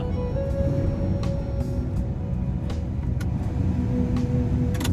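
A vehicle engine idling slightly high, a steady low rumble with a constant whine, joined by occasional faint clicks, continuous and close.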